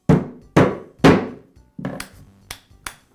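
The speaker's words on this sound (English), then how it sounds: "I'll place the cap over the shaft and tap it into place with a rubber mallet." A rubber mallet taps a cap onto the shaft of a Makita reciprocating saw during repair: six dull thunks, three firm evenly spaced blows followed by three lighter ones, close and alone.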